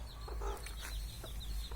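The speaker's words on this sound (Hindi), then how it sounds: "ये देखिए ये है बिहारी मुर्गी" A Bihari hen of a jungle breed clucks near at hand, several short soft clucks in an uneven rhythm over a low background hum, with no talking.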